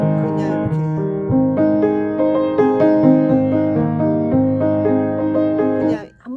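Solo piano playing Schumann-Liszt Widmung (Dedication), a steady run of sustained chords and repeated notes, loud and close with no talking.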